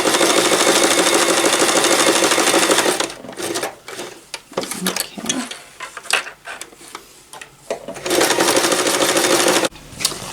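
A sewing machine stitching reusable sanitary towel fabric runs in a loud, rapid continuous whir for about three seconds, pauses amid quiet handling and clicks of turning the fabric, then resumes stitching for another burst before stopping.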